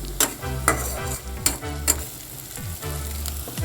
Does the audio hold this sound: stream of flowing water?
no